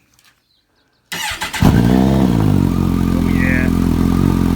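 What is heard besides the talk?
Concours 14 motorcycle starting with Delkevic DS70 carbon muffler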